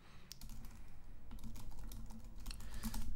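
Typing on a computer keyboard, a steady run of soft, close key clicks continuing throughout with no voices.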